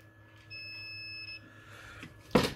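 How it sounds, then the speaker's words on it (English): A multimeter set to continuity mode, used while repairing a car ECU with no CAN communication, gives one steady beep lasting under a second, followed by a sharp click from the probes against a quiet background hum. "When we hear the beep"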